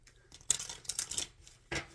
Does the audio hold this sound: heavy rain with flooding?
no